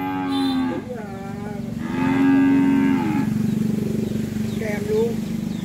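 Large cattle at a Ba Tri livestock sale moo in deep, drawn-out calls, a short one followed by a longer, louder low bellow and a fainter third, with farm background noise.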